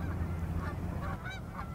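Geese beside a grain field along the Bow River east of Calgary in winter give several scattered honks of moderate loudness over a steady low rumble.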